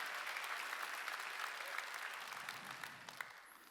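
A congregation claps together during a Wednesday church service, a full, even round of applause in a large room that continues steadily with a few sharper claps near the end.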